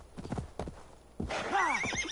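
Horse hooves clip-clop and a horse neighs loudly in Assassin's Creed Valhalla, a few soft hoof thuds first, then a rising, warbling whinny over continued galloping.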